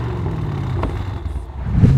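A drag race car engine idles with a low, throbbing rumble, then revs up more loudly in the last moment.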